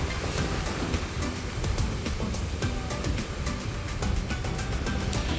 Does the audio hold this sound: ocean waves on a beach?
yes